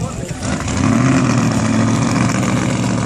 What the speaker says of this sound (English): Racing cars are very loud.